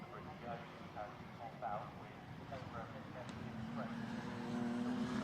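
Ginetta GT Academy race cars brake into the Snetterton S's, engine notes dropping and then building again, faint and distant beneath steady race commentary.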